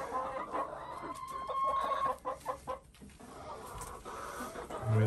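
Chickens cluck at a backyard chicken coop in a lively, irregular chorus with sharp calls, fairly close and with no talking.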